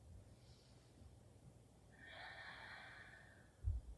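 Quiet breathing while holding a pose in a vinyasa yoga class, with a soft breathy exhale swelling for about a second near the middle and a brief low thump at the end.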